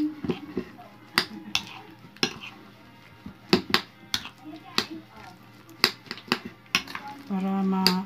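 A utensil clinks and scrapes against a bowl while the batter for fried sweet potato snacks is stirred, giving a scattered run of sharp taps with quiet gaps between them, under occasional talk.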